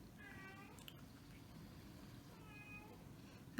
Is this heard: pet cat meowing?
yes